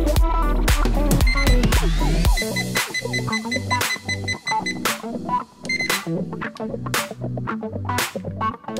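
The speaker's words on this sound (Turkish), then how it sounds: "LDR ise karanlık olduğunda buzzer'dan ses vererek bize uyarı veriyor." Electronic beeping tones from an Arduino buzzer alarm triggered by a light sensor in darkness, in a fast, irregular pattern with a low hum at the start, close and fairly loud.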